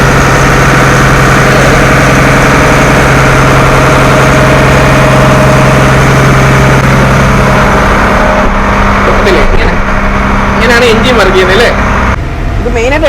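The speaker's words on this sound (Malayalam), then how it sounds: "ഇതിനുള്ളിലാണ് ഇതിൻ്റെ എഞ്ചിൻ ഇരിക്കുന്നത്" A loud, steady houseboat engine idles with a constant low hum and vibration throughout, with faint voices in the final seconds.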